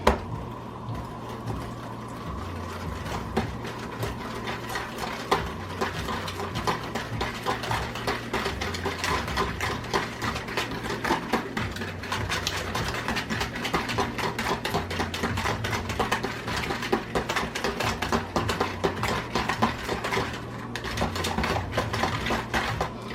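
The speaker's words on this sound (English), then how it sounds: "Then you're just going to whisk this together." Cream cheese meatloaf mixture whisked in a bowl: a steady, busy scraping and clattering that runs nonstop for the full stretch at a fairly even, close level, with no talking.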